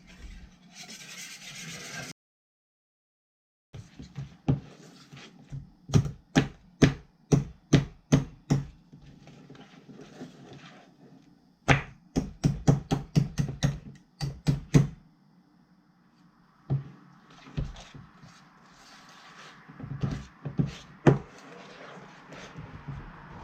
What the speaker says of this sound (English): Just mix that up. Whisk it.